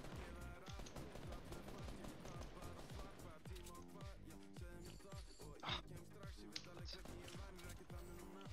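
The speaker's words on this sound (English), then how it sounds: "someone's shooting me" Rapid video-game gunfire crackles in dense bursts from a shooter game, layered over busy game music and effects, with a player talking throughout.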